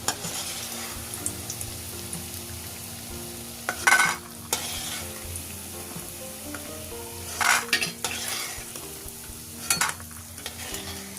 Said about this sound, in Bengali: নাড়াচাড়া করে বড়িগুলো লালচে করে ভেজে নেব